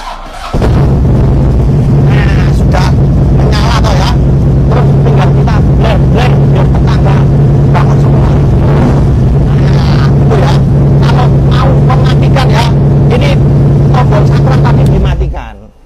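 A 2023 Harley-Davidson Ultra Classic motorcycle engine fires up and idles loudly with a deep, steady throb right beside the listener, someone talking over it, before it cuts off at the end.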